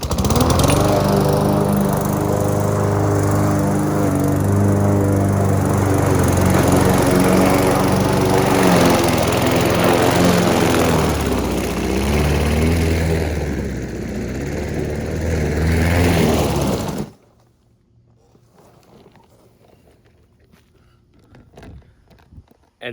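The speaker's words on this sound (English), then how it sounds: "this lawnmower does struggle with slightly longer grass when it is dewy" Craftsman M100 gas lawn mower bogging down in dewy, slightly long grass, a loud steady engine drone with a wavering, labouring pitch that cuts off sharply near the end, leaving faint rustling.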